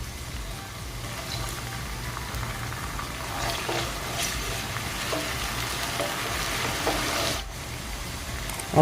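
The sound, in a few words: onion frying with ginger garlic paste and water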